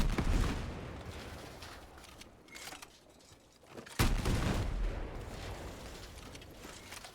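Gunfire and explosive blasts from the video game Battlefield 6, with a dense burst of shots, a quieter lull, then a sharp loud blast followed by more rumbling fire, with no talking.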